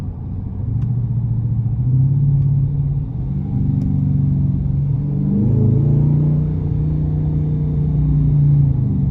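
Deep, steady exhaust rumble from a 2021 Dodge Challenger R/T Plus V8 cruising, with a low throbbing drone that swells slightly as the engine works, heard from inside the cabin with no talking.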